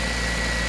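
K-swapped Honda Jazz engine running at a steady idle, a constant low drone close by with no talk.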